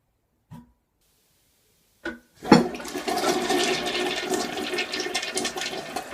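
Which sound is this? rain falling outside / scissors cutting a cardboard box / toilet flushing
toilet flushing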